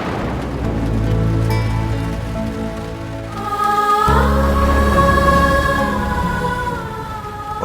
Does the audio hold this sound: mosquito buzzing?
no